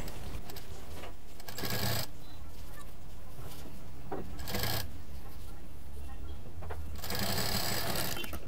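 A sewing machine stitches a fabric waist mobile case in several short, rapid whirring bursts, close and clear, separated by quieter pauses.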